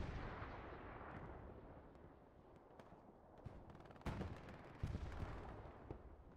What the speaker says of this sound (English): That was a solid bombing run.